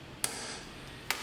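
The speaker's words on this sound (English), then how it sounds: "Here I am just marking my holes with a center punch." A center punch is struck to mark screw holes in metal, two sharp, bright metallic taps spaced about a second apart, close and clean, with no talking.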